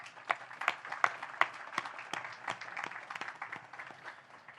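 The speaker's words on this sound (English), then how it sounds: "So how about a big round of applause for all those folks?" Audience applause at the USS Savannah ship commissioning ceremony, a moderately distant crowd clapping with scattered sharper claps standing out, steady and fading slightly toward the end.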